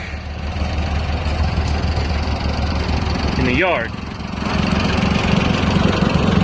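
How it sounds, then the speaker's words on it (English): A steady low engine rumble runs throughout, like a tractor idling nearby, with a person speaking briefly over it. "hooked to the tractor"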